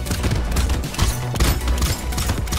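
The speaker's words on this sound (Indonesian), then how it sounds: "Gue gak salah pilih pakai senjata Shredder ini. Keren juga nih senjata." Rapid bursts of gunfire from the Shredder weapon in the video game Brotato, a dense, loud, continuous fusillade of overlapping shots mixed with game effects and no pauses.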